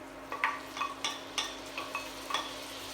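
Chopped onion and minced garlic sizzle in melted unsalted butter in a pot, with a series of soft stirring scrapes and light crackles repeating every half second or so, close and fairly quiet.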